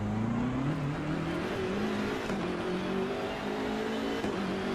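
Race car engine in the racing video game Assetto Corsa Competizione, a steady droning hum with shifting pitch, held at a fairly low level throughout without any talk.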